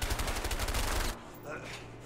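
Gunfire in the co-op game A Way Out: a loud rapid burst of shots for about a second, then quieter background ambience.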